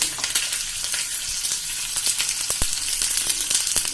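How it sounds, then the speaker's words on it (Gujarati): Sesame seeds and curry leaves sizzling in hot oil as a tempering for khandvi, a bright continuous crackle with sharp pops scattered throughout, close and fairly loud, with no speech. "અડધી ટીસ્પૂન આપણે તલ નાખશું અને આપણે લીમડાના પત્તા નાખી દેશું"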